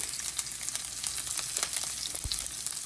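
Turmeric goes into a sizzling tempering of oil and green chillies for lemon rice, a close crackling fry with scattered pops and one soft knock of a spoon against the pan.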